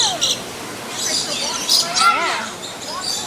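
Colorful blue, orange and green birds chirp and tweet in quick high calls, some rising and falling whistles, amid a crowd babble of voices nearby.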